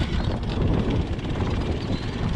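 Small outboard motor on a Catalina 25 sailboat, started with one pull on half choke, roars steadily and loudly close by with a dense low-pitched drone, no voices.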